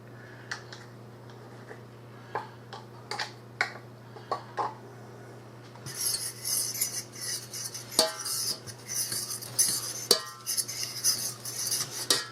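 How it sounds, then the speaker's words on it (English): A utensil stirs butter and flour into a roux in a pan, first as sparse scattered clicks over a low hum, then as busier rapid scraping and tapping that continues to the end. "And get these mixed, making a little roux here. Keep stirring it till you get the lumps out."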